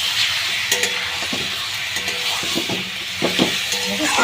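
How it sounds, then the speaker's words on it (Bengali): Lote fish frying in a pan sizzles steadily and loudly, while a utensil gently stirs and scrapes the pieces in repeated soft knocks, close by and without speech. "দিয়ে আস্তে আস্তে করে এটা মাছটা এরকম করে নাড়াতে হবে।"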